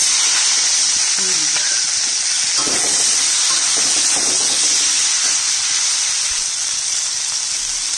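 Chopped onions fry in hot oil tempered with cumin, dry red chilli and bay leaf, making a loud, continuous hissing sizzle with faint stirring underneath throughout.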